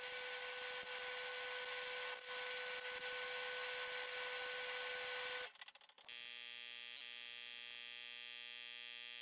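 A drill press motor hums steadily with a high whine while spinning a wooden knob for sanding, then the pitch and tone shift abruptly partway through into a different constant drone.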